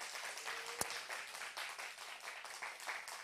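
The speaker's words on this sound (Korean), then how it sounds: "다시 한번 큰 박수 부탁드리겠습니다" A church worship-service crowd applauds steadily, a dense wash of clapping that holds at an even level throughout, with one sharp louder clap near the start.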